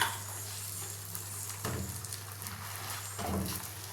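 Bread omelette frying in a pan, soft faint sizzling under a steady low hum, with a couple of brief louder stirring bursts.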